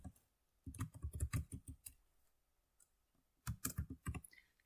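Typing on a computer keyboard comes in two quick bursts of soft, close key clicks, with a quiet pause between them and no voices.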